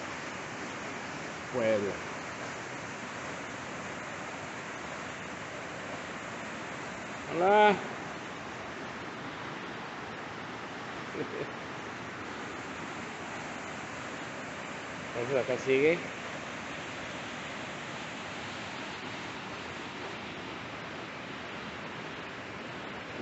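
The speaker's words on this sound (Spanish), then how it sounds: "Y esta es la segunda cascada de las 2 que hay en Aconco, en Tetela del Ocampo" Steady rushing roar of the second cascade at Aconco, Tetela de Ocampo, Puebla, runs continuously as broadband water noise throughout, with a few brief spoken phrases over it.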